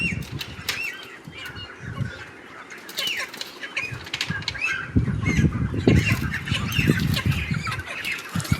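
Chickens flap their wings frantically and squawk in bursts as they are caught and packed into cages, loud and close, with clucking and rustling throughout.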